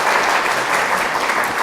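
Welcoming applause from a church congregation in Korea, a dense, steady clapping from many hands, loud and close, filling the short moment with no speech over it.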